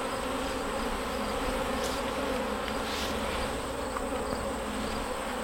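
Agitated honey bees at an opened horizontal hive make a dense, continuous buzzing swarm drone, steady and close throughout.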